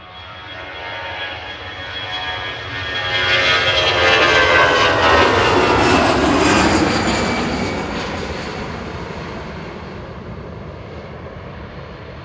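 A fixed-wing aircraft engine roars at Manchester Airport, swelling from a distant rumble to a loud, close peak before fading again as the plane passes, with no talk over it.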